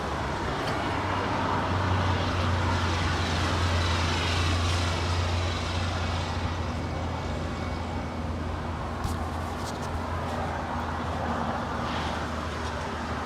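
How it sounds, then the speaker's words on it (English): A United Airlines Boeing 787-10 Dreamliner departs Los Angeles International Airport, its engines a steady, broad jet roar with a low droning hum that holds loud and continuous throughout, spread over distant airport background. "Our next departure is going to be United Airlines Flight 1497. We'll be departing to Newark Liberty on a Boeing"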